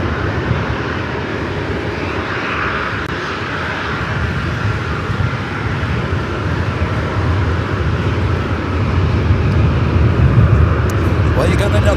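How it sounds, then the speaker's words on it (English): A Delta Boeing 757 airliner arrives at LAX from Seattle with a steady, broad jet roar that swells slightly toward the end, while indistinct voices murmur in the background. "That Delta 757 coming in from Seattle"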